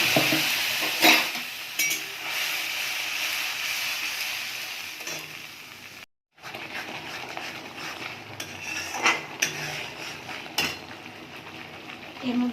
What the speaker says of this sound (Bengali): তেল গরম হয়ে গেছে, কালো জিরে ফোড়ন দিয়েছি, আর কাঁচা লঙ্কা দিয়ে দিচ্ছি